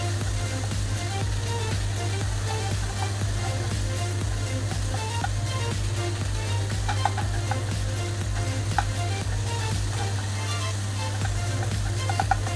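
Minced meat with garlic and ginger stir-fries in a hot pan, a dense continuous sizzle with faint scraping of the spatula and occasional small pops, steady and close, with a constant low hum beneath and no talk.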